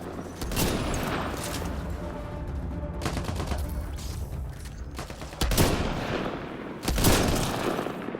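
Gunfire in Mass Effect Andromeda, dense automatic shooting in repeated loud bursts separated by short gaps, with heavier blasts late in the sequence and no talk.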